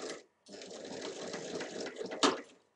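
Sewing machine stitching the side seams of a backpack at a 1 cm seam allowance, a steady mechanical whirr running continuously for a couple of seconds after a brief pause, fairly close and alone.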